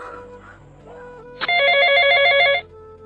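A bright electronic phone ringtone trills loudly for about a second, following a few soft tones.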